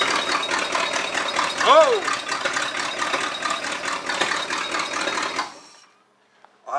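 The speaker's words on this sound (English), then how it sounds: "let me see if it'll crank again." A Chevrolet El Camino engine cranks with a fast, rhythmic churning for about five seconds, then drops away to near silence before a brief burst returns at the end; a short exclamation is heard.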